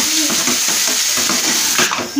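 Green masala paste for green chicken curry frying in hot oil, a steady close sizzle broken by repeated scraping stirs of the spoon through the pan.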